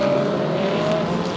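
Field of GT race cars streaming over the start line at the Spa 24 Hours endurance race, a dense continuous engine roar with a steady high tone running through it, loud and sustained throughout.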